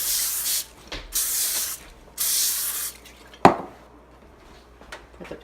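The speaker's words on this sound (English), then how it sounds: "I have sheets of tin foil out, and I just spray them quick" Cooking spray hisses onto sheets of tin foil in a kitchen in two long bursts, then a shorter one, followed by a sharp knock and a few soft rustles of the foil, close and clear with no talk.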